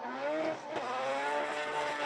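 A high-revving four-rotor twin-turbo rotary drift car engine roars continuously with a buzzing, raspy tone, loud and sustained as it drives past at speed during Formula Drift qualifying at Fuji Speedway, Japan.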